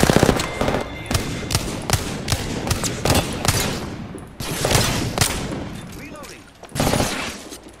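Gunfire in the video game Apex Legends, with loud rapid bursts and repeated shots crackling in dense volleys, while players talk excitedly over the shooting.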